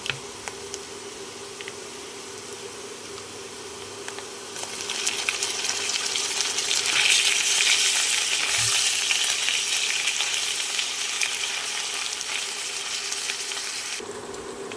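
Potato and coconut pieces fry in oil in a pan while ginger paste goes in, for a vegetarian banana-flower ghonto. A steady sizzle swells louder partway through and carries on continuously, close and alone with no talking.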